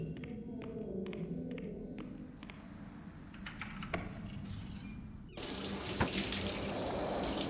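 A shower running in a bathroom in the game Three Minutes To Eight: a steady hiss of water, faint at first with some clicks and rattles, then swelling to a louder, constant rush.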